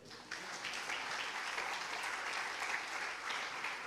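A church congregation applauds together in a steady, dense wash of clapping that holds evenly for several seconds, fairly faint and slightly distant.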